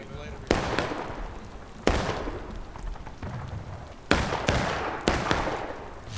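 Musket-style rifle shots in the War of Rights battle game, several sharp loud reports spaced a second or two apart, each trailing off with a long echoing rumble, under a voice talking.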